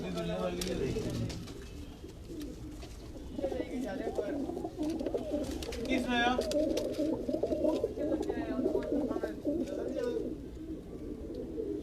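Pigeons coo steadily on a rooftop in Rawalpindi in soft, overlapping phrases while people talk nearby, with some higher chirps mixed in.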